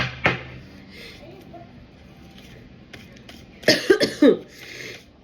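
A short sharp cough near the start, then a louder burst of two or three coughs later, close to the mic in a quiet room.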